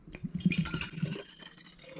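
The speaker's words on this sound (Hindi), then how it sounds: "तो अभी हम इसमें मिला देते हैं पानी" Water poured in a short, gentle stream into food colouring in a glass jar, a brief burbling splash that fades after about a second.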